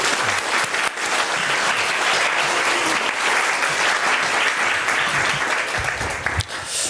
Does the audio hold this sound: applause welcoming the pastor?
yes